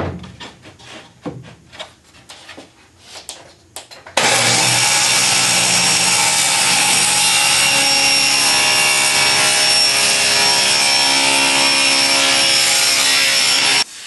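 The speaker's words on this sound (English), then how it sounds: "Now I'm going to cut them to a rough size so that they're easier to manage." A power saw cuts glued-up wood pieces to rough size for a natural-edge side table, starting after a few seconds of quiet shop handling noise, then running loud and steady without a break to the end.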